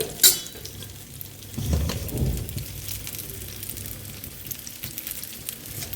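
Cauliflower pakoras fry on a large gas stove burner with a steady bubbling sizzle, swelling briefly after a sharp clink at the start.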